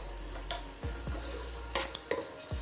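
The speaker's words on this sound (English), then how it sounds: "So let's just give this some quick stir." Vegetables sizzle in a pan under a spoon's quick stirring, with a soft continuous fry and a few close scrapes and taps against the pan across a short moment.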